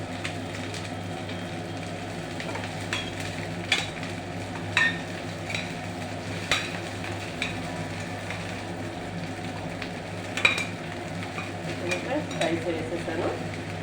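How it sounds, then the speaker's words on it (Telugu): Hot rice being stir-fried for egg fried rice, a continuous close sizzle with scattered scrapes and clatters of the spatula against the pan over a steady hum. "రైస్ వేస్తున్నాను."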